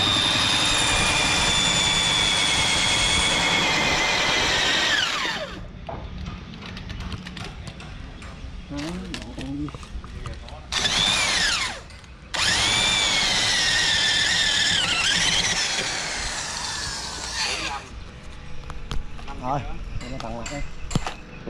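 A power drill bores holes into iron strap for an old-style iron clamp fitting, grinding in long loud bursts with brief pauses between passes, the motor whining up and down near the microphone.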